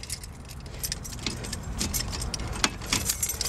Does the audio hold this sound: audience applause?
no